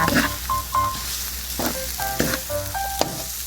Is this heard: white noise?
no